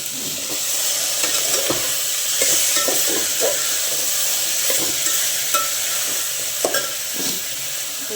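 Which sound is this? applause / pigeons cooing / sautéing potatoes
sautéing potatoes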